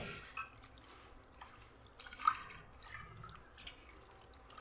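Water poured over soaked rice in a vessel while washing it for idli batter, with faint drips and soft splashes and a few sharper clinks, quiet and close.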